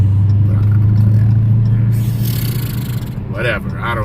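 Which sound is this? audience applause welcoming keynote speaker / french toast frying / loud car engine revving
loud car engine revving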